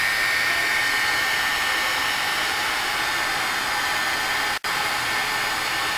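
A heat tool blows steadily to melt embossing powder on a card, giving a constant close hiss with one very brief cutout near the end.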